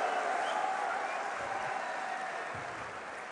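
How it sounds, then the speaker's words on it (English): Audience at the DreamHack 2010 StarCraft 2 tournament cheering and applauding in a large hall, a dense steady wash of claps and crowd noise that fades slightly over a few seconds. "Give a cheer for ThorZaiN and White Ra."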